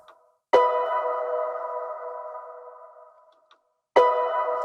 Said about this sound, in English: So we've got this one piano sound.